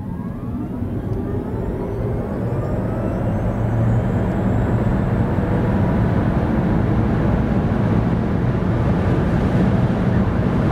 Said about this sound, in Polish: Gdyby ktoś chciał wykorzystać maksymalną moc samochodu w różnych warunkach, to tak Inster przyspieszy od 0 do setki.